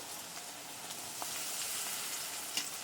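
Bay leaves dropped into a cumin spice paste frying in oil for a shrimp and greens curry, a soft steady sizzle with faint crackles and a light stir, close but fairly quiet.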